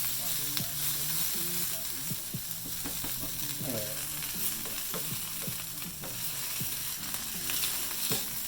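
Tuna taco shells frying in hot oil give a steady, close sizzle, broken by scraping and clinking from tongs and a single brief spoken word.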